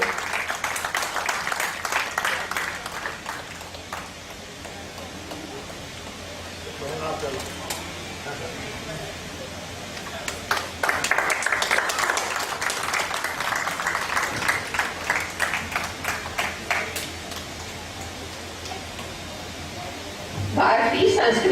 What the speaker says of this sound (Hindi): दिल खोल के तालियां बजाइए।